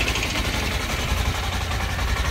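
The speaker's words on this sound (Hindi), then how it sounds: "कुछ इस तरह का साउंड करता है सुपर स्प्लेंडर का इंजन" A Hero Super Splendor 125cc BS6 motorcycle engine idles close by with a steady, even low throb and a fast regular exhaust pulse, heard on its own with no talking.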